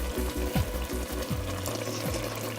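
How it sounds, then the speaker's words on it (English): Spinach cooking in a pan for homemade palak paneer gives a steady, close sizzle and bubbling with faint low rhythmic thumps underneath, without talk. "While our spinach is cooking"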